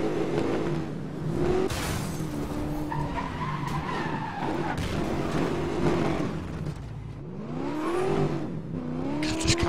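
A Need for Speed racing car engine revving and whining through gear changes, backfiring on shifts, with loud tire squeals and skids throughout.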